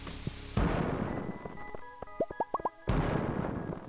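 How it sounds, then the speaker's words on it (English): A bomb explodes in Stardew Valley with a sudden heavy boom, followed by a quieter run of quick rising pops and plops before a second broadband blast. "We'll throw a bomb here."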